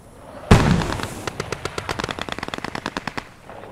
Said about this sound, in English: we've got our MG coming down the base of fire